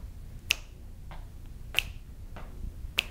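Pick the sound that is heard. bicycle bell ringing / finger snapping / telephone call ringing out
finger snapping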